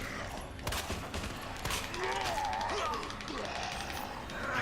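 Gunfire against zombies in Resident Evil 2, rapid overlapping shots and thuds in a dense burst, with a player's voice heard under the action.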